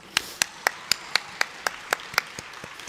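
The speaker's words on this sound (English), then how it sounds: "A huge round of applause for our parents" Clapping at a college graduation ceremony for new doctors: about a dozen crisp, evenly spaced claps in a steady rhythm, close and distinct, gradually softening toward the end.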